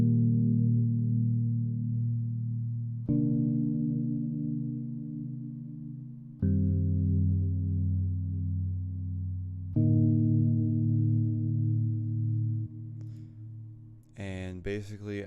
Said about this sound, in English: So this first chord progression is a sound from Keyscape.